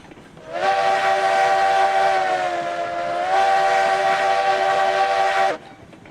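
A steam locomotive whistle in the railroad game RailRoads Online gives one long, loud, rich blast of about five seconds. Its pitch dips briefly in the middle, then it cuts off cleanly.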